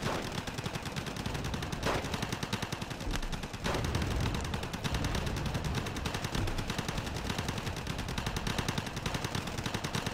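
Rapid machine gun fire fills a battle in the video game Wargame Red Dragon, dense overlapping bursts with heavy gunfire crackle running loudly and continuously throughout, no talking.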